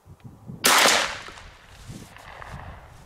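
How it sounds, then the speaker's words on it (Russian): A single Beretta Belmonte shotgun with a cylinder-bore barrel firing a 32-gram No. 5 wad-container cartridge outdoors: one loud, sharp blast followed by a short fading echo. "Для этого я буду стрелять тремя патронами"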